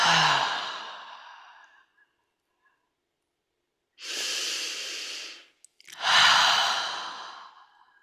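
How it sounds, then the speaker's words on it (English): Long, deep breaths in a calm voice masterclass setting: a slow audible exhale fades out, followed by silence, then two more full breaths, close and clear with no speech. "And deep breath."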